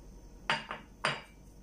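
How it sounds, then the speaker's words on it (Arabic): A mixing bowl is picked up and set down for baking almond biscuits, giving two or three quick clattering knocks close by in an otherwise quiet kitchen. "ناخذ إناء اللي غنخلط فيه هاد المكونات"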